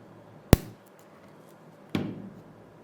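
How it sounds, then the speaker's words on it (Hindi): A Glitter 801B spot welder fires on nickel strip, two sharp isolated snaps roughly one and a half seconds apart, close and fairly loud against quiet background. "इस निकल स्ट्रिप को यहाँ पे मैं रखता हूँ और रखने के बाद मैं आपको इसके माध्यम से स्पॉट वेल्ड करके भी दिखाता हूँ।"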